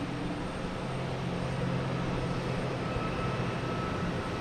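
An Alaska Airlines Boeing 737 MAX 9 airliner at Boston Logan Airport, a steady broadband jet engine roar at moderate distance, constant without build or fade, no voices.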